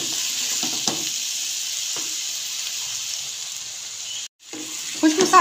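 Whole spices frying and being stirred in a pan for a potato curry, with a steady close sizzle and occasional scraping stirs, cut off briefly by a short gap before louder stirring resumes.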